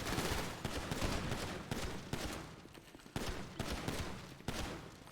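Repeated gunfire at a shooting range in a GTA roleplay game, sharp shots arriving in a steady rhythm of bursts roughly every half second, moderately distant and without talk.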